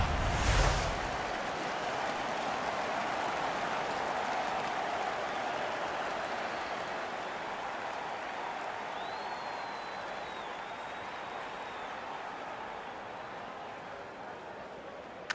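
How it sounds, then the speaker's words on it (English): Steady, broad roar of an arena crowd cheering after a fight in the NHL 15 hockey video game, loud and sustained throughout, fading slightly toward the end. "The crowd is ecstatic."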